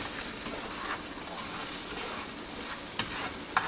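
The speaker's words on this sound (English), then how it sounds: "I'm gonna take my spatula, move it around," Eggs cook in a pan on medium heat, a soft steady sizzle with faint scraping as a spatula moves them off the edges, plus two brief taps near the end; quiet and close, no talking.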